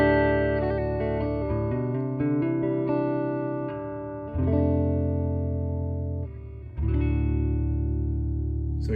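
A clean, undistorted electric guitar in drop D tuning plays sustained low chords and ringing notes, heavy on the bass, with no other sounds.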